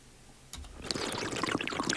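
A water bottle being drunk in Scavland, with a soft click and then a trickling, gurgling liquid sound that continues at close range and moderate loudness.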